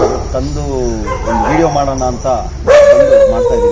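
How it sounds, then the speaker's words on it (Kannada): Dogs barking outdoors near a Yamaha RXZ motorcycle on an empty road, yips and barks partly under someone talking, with one louder bark near the end. "ಇಲ್ಲೊಂದು ಸ್ವಲ್ಪ ನಾಯಿಗಳು ಬೊಗಳ್ತಾನೆ ಇದ್ದಾವೆ."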